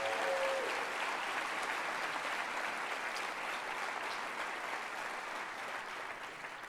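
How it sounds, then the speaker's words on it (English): A crowd at a city mayor's State of the City address applauds steadily for several seconds, a dense even patter of clapping that fades slightly toward the end. "Let's give them a round of applause if we can."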